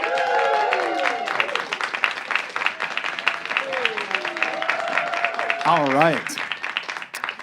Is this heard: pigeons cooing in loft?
no